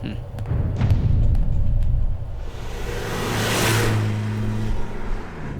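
A car drives in a film scene with a low, continuous engine rumble and broadband road noise that swells and eases, with a few thumps and some voices mixed in.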